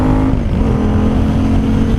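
A 2012 KTM 990 SMT supermoto touring motorcycle accelerates hard, its loud engine droning close up with a brief pitch drop as it shifts gear, then pulling steadily again.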